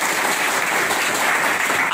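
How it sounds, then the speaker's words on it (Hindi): Loud, steady applause from an audience at a live course session, continuous clapping filling the whole short stretch with no pauses. "तो इनके लिए जोरदार ताली बजा दीजिए।"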